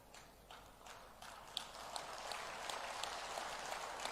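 Audience applause at a public statue unveiling ceremony for Samrat Prithviraj Chauhan, a faint, steady patter of many hands clapping from a distance, rising slightly and holding through the moment.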